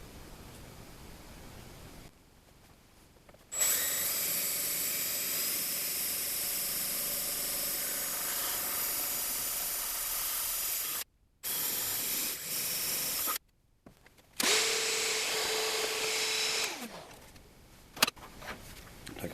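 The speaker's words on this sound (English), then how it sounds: "So I'm getting ready to drill that out a little bigger so they'll pop through there." A power drill whirs loudly in long, steady runs, stopping briefly between bursts, with a higher-pitched whine in the final stretch.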